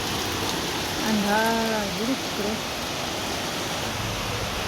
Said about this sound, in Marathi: हे बघा पावसाचा जोर वाढलेला आहे